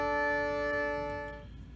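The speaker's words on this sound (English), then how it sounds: "this is the sound of the synth" Pitch-tracked synth patch on an Empress ZOIA effects pedal, a steady sustained harmonic tone that holds evenly before fading away near the end.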